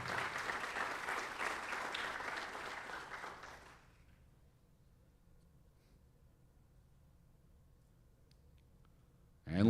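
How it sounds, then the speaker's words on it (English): Applause at a high school spring athletics signing day as a swimming and diving recruit signs her letter of intent, a steady crowd clapping for about four seconds before fading into quiet room tone. "Ladies and gentlemen, let's give a round of applause for Abby as she signs her letter of intent"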